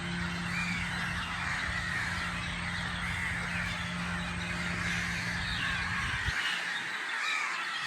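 Birds calling across bird island in Negombo lagoon, Sri Lanka, a steady distant wash of caws and cries over a low boat-engine hum that cuts out near the end.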